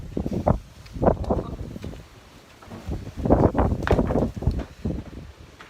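Gusty wind buffets the microphone in irregular bursts, loud low rumbles with short lulls between them, close and rough.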